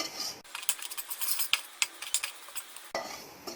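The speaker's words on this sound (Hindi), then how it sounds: "अब इन सबको अच्छे से मिक्स करेंगे" Spices for Punjabi kadhi being mixed in a hot pan with garlic and ginger, a close run of quick scraping and clinking stirring strokes over a soft sizzle, with no talk.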